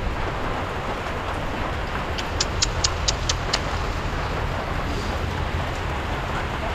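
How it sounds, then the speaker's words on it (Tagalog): Rain falling steadily at Taal Lake during a typhoon, a constant broadband hiss, with a short run of sharp ticking taps partway through. "At yan naman, umpisa na uli ang ulan."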